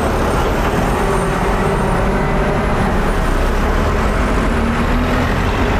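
A loud truck rumbles through a busy city intersection in Utrecht, its heavy engine and road noise filling the scene continuously, with a hiss like an air brake along with surrounding traffic.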